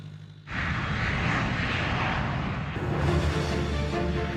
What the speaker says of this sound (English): the Airbus.